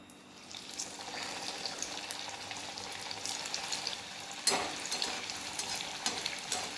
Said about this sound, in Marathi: शेवळ्याच्या इडल्या केलेल्या आहे, याला मी तळून घेते. गॅस पेटवून तेल ठेवलेलं आहे